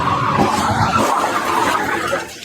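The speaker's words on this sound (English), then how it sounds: "And this crash was violent." A car skids with a rough tire-scraping roar, loud and close, played back through a speaker in a commentary setting, with a grinding, fluctuating texture lasting the full moment.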